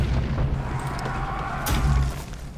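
An artillery unit fires in the strategy game Millennia, a muffled low boom that swells briefly near the end over a soft rumbling bed, no talk.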